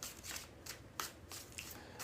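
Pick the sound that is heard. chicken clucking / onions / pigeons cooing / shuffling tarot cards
shuffling tarot cards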